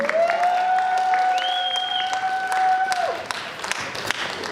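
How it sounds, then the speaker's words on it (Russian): An audience at a student KVN comedy contest final claps in steady, dense applause, with a loud whistle cutting through the crowd noise before the clapping thins out. "а вы им пока громко аплодируете"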